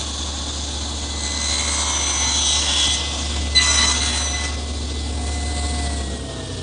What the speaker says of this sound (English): now I'm cutting the shoulder cuts at the top and bottom of each rail